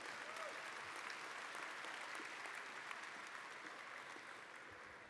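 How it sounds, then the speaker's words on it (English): Diners at a hockey hall of fame induction dinner give a round of applause, a steady wash of many hands clapping filling the room evenly from start to finish. "But let's have a round of applause for Jerry D."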